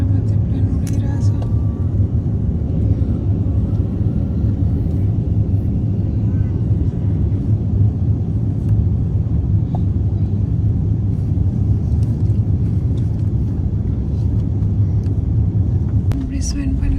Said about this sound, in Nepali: यहाँ समुद्रमाथि प्लेन उडिरहेछ